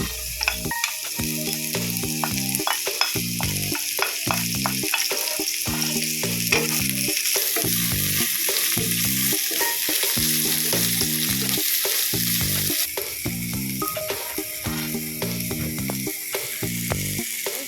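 Onion fries in a pan for a potato and spring onion omelette, a bright steady sizzle with stirring under rhythmic background music throughout.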